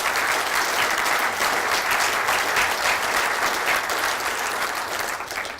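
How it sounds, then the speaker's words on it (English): Loud, sustained applause from a conference audience honouring hauliers at a keynote speech, steady dense clapping filling the whole stretch and tailing off slightly at the end. "So let's give a round of applause for the hauliers amongst the audience,"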